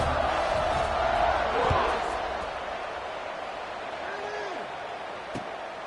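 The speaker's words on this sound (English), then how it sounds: "this crowd is buzzing after that last score" Football stadium crowd buzzing after a score, a broad, sustained roar that swells early then settles into a steady loud murmur, with a faint whistle-like tone drifting through near the end.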